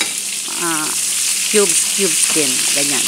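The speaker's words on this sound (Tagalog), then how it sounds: "Gigisa natin para lumabas yung kanyang aroma para mas masarap siya." Diced onions sautéing in a pan, a steady broadband sizzle running throughout under a person talking.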